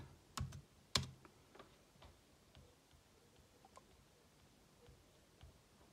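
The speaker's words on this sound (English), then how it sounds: "and now just unlock here just write your password" A few sparse keystrokes as a password is typed on a Mac keyboard, with two sharper clicks early on and then faint scattered taps in a quiet room.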